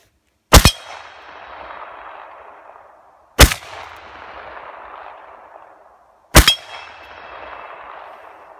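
Three sharp metallic clangs from bullets striking a steel gong target outdoors, each a loud ringing hit spaced about three seconds apart, trailing off in a long shimmering decay with no talking.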